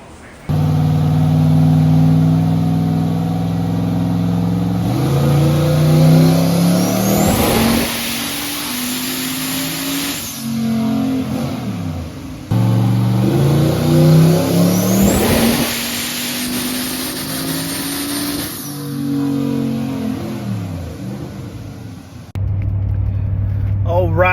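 Car engine revving hard on a dyno, climbing through long loud pulls that cut off and repeat, with voices talking over the roar.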